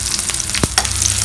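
Whole garam masala of cardamom, cloves and a piece of cinnamon with white cumin seeds frying in hot oil for a Bengali moog dal with fish head, a steady close sizzle with a couple of short stirring knocks.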